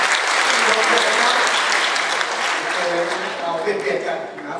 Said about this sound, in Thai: ขอเสียงปรบมือต้อนรับท่าน